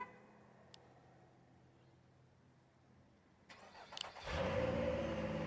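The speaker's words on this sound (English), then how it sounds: "In case you don't hear the engine running" After near silence and a couple of faint clicks, a Nissan car engine cranks and catches by remote start, settling into a steady idle.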